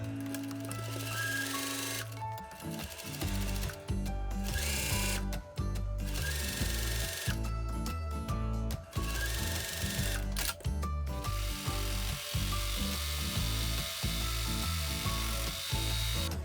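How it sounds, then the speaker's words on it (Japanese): An overlock serger runs in steady bursts while finishing the side seams of a V-neck T-shirt, its fast mechanical stitching hum starting and stopping repeatedly, close and loud, with no talk over it. "脇も縫ったらロックミシンをかけておきます。"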